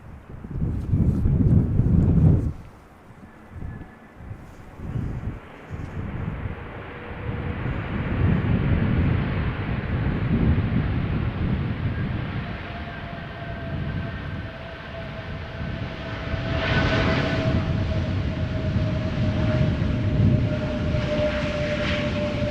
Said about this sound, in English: This is Aegean A320 Neo arriving from Athens.